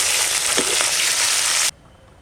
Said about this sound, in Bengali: এখন ফাটানো কাঁচা লঙ্কা দিয়ে দেবো